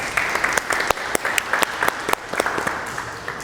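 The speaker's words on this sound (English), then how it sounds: "please talk with a round of applause to yourselves for pulling up" A small group claps unevenly at a creative studio workshop, with loose, separate hand claps at close range forming brief, patchy applause.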